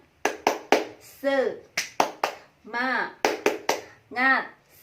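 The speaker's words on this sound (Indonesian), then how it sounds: "ayo kita tepuk semangat" Children in a first-grade lesson perform a 'tepuk semangat' clapping chant: sharp, close handclaps in quick rhythmic groups alternate with short sung or chanted syllables.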